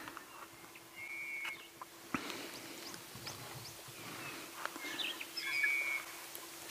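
Scattered bird calls and chirps at dawn on an African safari drive, brief whistles and twitters against a quiet outdoor background, with occasional clicks and rustles nearby.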